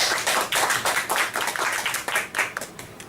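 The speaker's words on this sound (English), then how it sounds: "give Toastmaster Kwang a big round of applause" A small club audience at a Toastmasters meeting claps for several seconds, with individual hand claps standing out in a quick, uneven rhythm against a fuller patter. The sound is close and fairly loud, with no talking over it.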